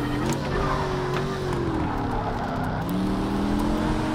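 A race car engine in Project CARS 3 drones continuously at high revs, its pitch sliding up and down with gear changes and steady road noise.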